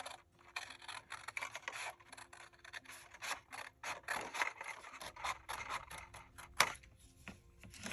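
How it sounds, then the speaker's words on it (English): Scissors cutting through paper and card while making a gift pocket from a letter-size sheet, a close, quiet run of rasping snips and scrapes in quick succession, with no talking. "I'm going to cut this piece off"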